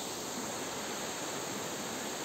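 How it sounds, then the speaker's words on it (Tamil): A small waterfall behind a Shiva temple in a forest gives a constant, even rush of falling water, steady and moderately distant with no other sounds. "இது வந்து ஒரு சிவன் கோயிலுக்கு பின்னாடி இருக்கிற ஒரு சின்ன அருவி"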